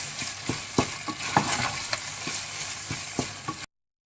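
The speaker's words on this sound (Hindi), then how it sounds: "अब इसमें मैं दही डालकर कीमे को भून लूंगी और तेजी से चम्मच चलाना है" Spoon stirring yogurt into minced meat as it fries in a pan for keema aloo, with repeated sharp scraping clicks over a steady close sizzle.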